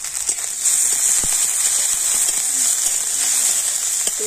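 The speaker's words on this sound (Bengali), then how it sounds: "তো তেলের উপর আদা রসুনটা আমি একটু ভেজে নিয়েছি" Garlic and ginger frying in hot oil in a pan for a cabbage paratha, a steady bright sizzle with faint crackles throughout.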